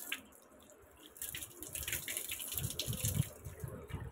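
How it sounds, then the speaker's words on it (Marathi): Water running from a tap while hair is wetted, a soft steady splashing and trickling close by, growing somewhat louder and more irregular partway through. "सर्वात आधी मी माझ्या केसांना ओले करून घेते."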